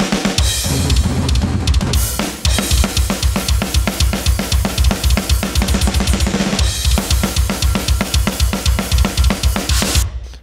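A metal song's drum mix plays without bass: loud, dense, rapid kick and snare hits driving steadily alongside distorted rhythm guitars, continuous for about ten seconds before stopping at the end.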